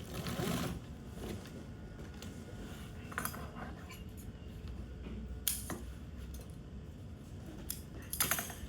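Sewing machine stitching binding onto marine canvas, a steady mechanical run of moderate loudness with a few sharp clicks and clacks breaking through near the start, middle and end.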